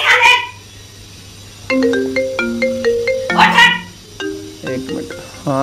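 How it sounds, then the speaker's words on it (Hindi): A melodic phone ringtone plays a short rising tune in clear repeated phrases, loud and close, with a brief pause between bursts. "हाँ दीदी का फोन आ रहा"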